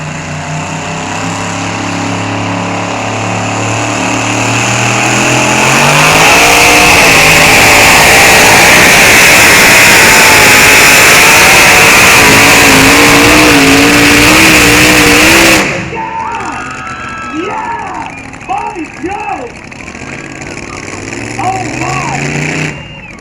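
A tractor-pulling vehicle's engine roars loud and steady through most of the run, its throttle snapped and held at full pitch at a night pull event before cutting off abruptly, leaving crowd noise and an announcer talking.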